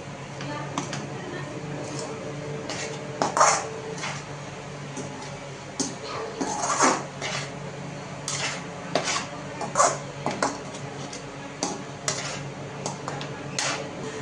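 Irregular clanks and scrapes of a masher against a pan crushing pav bhaji vegetables, with uneven metallic knocks spread across the stretch while someone talks over them.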